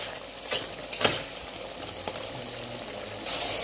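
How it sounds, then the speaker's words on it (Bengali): Fish sautéing in tomato and chilli masala sizzles steadily in a pan, broken by a few sharp stirring scrapes, close and fairly loud with no talk. "এটাকে একটু কষিয়ে নিই"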